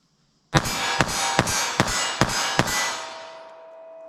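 A pistol fires .380 ACP JHP rounds at a target. Six loud, sharp shots crack out in quick succession, close by, each ringing briefly before a reverberant tail fades.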